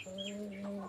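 A chicken nearby gives a short, tonal cluck-like call, fairly quiet and alone against a soft background.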